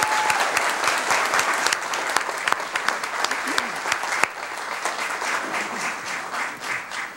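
Sustained applause from an audience at a school district board meeting, honoring wrestling athletes; dense, steady clapping fills the room throughout, with a few sharper individual claps standing out.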